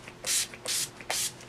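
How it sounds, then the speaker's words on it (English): De-Slick makeup setting spray misted onto the face in three separate hissing bursts, each about a quarter second long, close to the mic with quiet gaps between them. "De-Slick Makeup Setting Spray."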